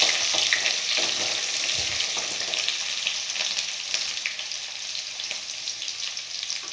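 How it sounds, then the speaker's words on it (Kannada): Onions fry in a pan for a potato palya, a steady crackling sizzle at moderate level with occasional stirring scrapes, and no one speaking. "ಸೊ ಅದಕ್ಕೋಸ್ಕರ ಈರುಳ್ಳಿ ಹಾಕಿ ಚೆನ್ನಾಗಿ ಫ್ರೈ ಮಾಡ್ಕೊಳ್ಳಿ"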